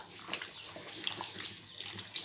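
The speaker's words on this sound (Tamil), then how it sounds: "நம்ம இப்போ தேங்காய் ஊற்றிடலாம்." Coconut milk poured into a village-style fish curry bubbling in a clay pot, a steady close liquid splashing and trickling with a few brighter drips, no voices.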